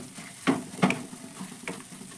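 Spices including Kashmiri chili powder and coriander powder fry in a pan for ghugni while being stirred, giving a soft, steady sizzle broken by a few brief scraping strokes.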